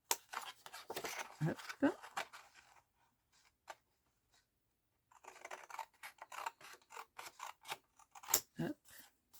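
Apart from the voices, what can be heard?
scissors cutting paper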